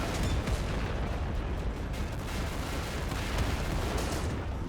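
Barrels explode in a video game in a dense, continuous barrage of loud blasts and crackling bangs, like a firework display, filling the whole stretch without pause.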